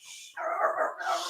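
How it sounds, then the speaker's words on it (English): A small chihuahua gives a quick burst of yappy, whimpering barks up close indoors, a short run of high-pitched yips lasting about a second with no talk over it. "I got a little chihuahua up in here."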